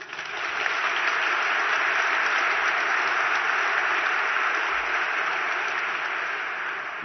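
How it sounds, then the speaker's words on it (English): An audience at a graduation ceremony applauds the musicians who played during the procession: a dense, steady burst of many hands clapping, sustained loudly for about seven seconds with no voices over it. "Let's give them a round of applause."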